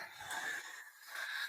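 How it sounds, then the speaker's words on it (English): Heavy, rasping breaths, close and alone, in two drawn-out cycles with a slightly wheezy edge. "Breathing."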